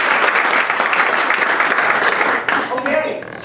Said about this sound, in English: ask you all to join me in a round of applause for our immediate past president